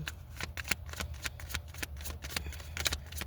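A deck of tarot cards is shuffled close up, giving rapid riffling flutters and soft slaps in repeated bursts, steady and near, with no talking.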